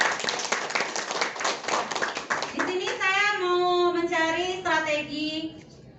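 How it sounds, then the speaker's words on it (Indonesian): A group at a workshop claps together for a couple of seconds, a brisk burst of hand claps that quickly gives way to a voice speaking over the fading room. "Oke, tepuk tangan buat kita semua."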